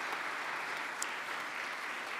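An audience at a church denomination's annual gathering in Michigan claps for a person being introduced, a steady, moderately distant wash of applause that continues evenly throughout.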